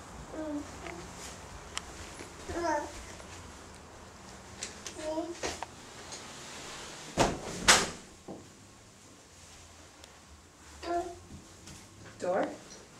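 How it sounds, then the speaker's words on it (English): A house door opens and shuts with a few soft knocks and a sharper clunk partway through, set against a quiet room hum, with faint voices now and then. "Door."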